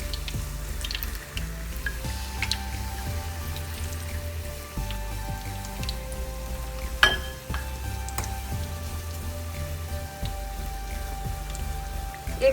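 Katori chaat baskets frying in oil over medium heat, a continuous soft sizzle with scattered pops and a sharper crackle partway through.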